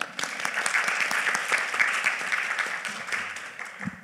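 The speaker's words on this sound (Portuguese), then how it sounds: "uma salva de palmas para ela" An audience at an academic panel on disability studies applauds a speaker with steady, dense clapping that lasts a few seconds and then thins out.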